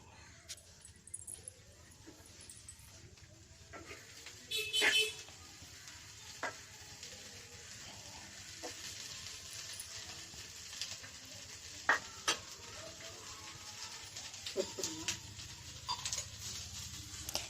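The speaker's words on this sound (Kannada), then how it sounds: "ಹಾಗೆ ಬೆಂಡೆಕಾಯಿಯ ಒಳಗೆ ಎಣ್ಣೆಯನ್ನು ಹಾಕಿಕೊಂಡು ಚೆನ್ನಾಗಿ ಹುರಿಯಬೇಕು" Okra fries in hot oil in a pan, a soft steady sizzle broken by scattered clinks and scrapes of stirring, with a person speaking at times.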